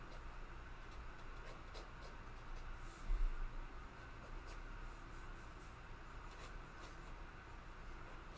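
A pen scratching across slightly rough paper, a steady soft scraping of continuous strokes with a few brighter scratches, close and quiet, with a faint hum of air conditioning underneath.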